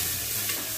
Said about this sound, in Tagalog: habang hinahalo natin yan, haluin natin dito sa kabila